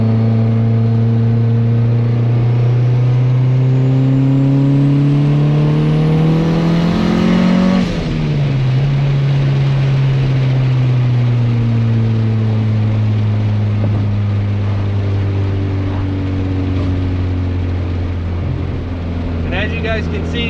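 A budget turbocharged car accelerates hard, its loud engine note climbing steadily, dipping briefly at a gear shift, then pulling up again continuously throughout.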